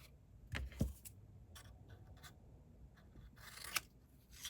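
Paper is cut with scissors while preparing pieces for a vintage doll cutting die, giving a couple of close snips near the start and a crisp snip later, amid quiet handling noise without talk.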